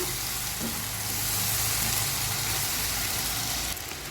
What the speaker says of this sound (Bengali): আদা রসুনটা দিয়ে আমি আরও দু তিন মিনিট একটু ভেজে নিয়েছি